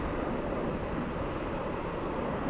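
An Emirates airliner departs LAX, a steady, broad jet roar with no breaks, loud and close throughout the short stretch, with no talk.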